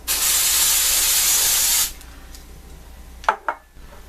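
A steady, loud hiss of an aerosol nail polish setting spray runs for about two seconds, then stops; a couple of faint clicks follow in a quiet room.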